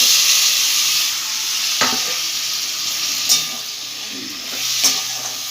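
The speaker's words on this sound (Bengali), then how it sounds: "এই মশলা দিয়ে ভালো করে আলুটা কষাবো।" Fried potatoes are stirred into spice paste in a hot pan, giving a continuous close sizzle with several distinct scraping strokes of the spatula, and no voices.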